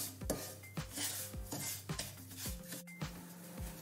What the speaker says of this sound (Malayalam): ചെറിയ ഫ്ലെയിമിൽ വെച്ച് ഒന്ന് വറുത്തെടുക്കാം